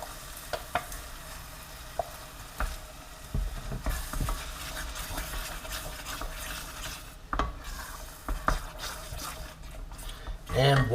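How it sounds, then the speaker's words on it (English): Crushed tomatoes go into a pan for a basic tomato sauce and are stirred, giving soft scraping and wet sloshing with a faint sizzle, punctuated by utensil taps, while someone talks. "Okay, so I'm going to add my crushed tomatoes."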